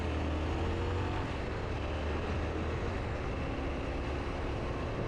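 A train passes near a Tenere 700 motorcycle on a commute, heard as a steady broadband rumble and roar mixed with wind noise, continuous and fairly loud with no distinct beats.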